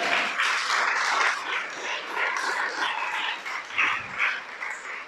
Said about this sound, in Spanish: Dale un aplauso a cada uno.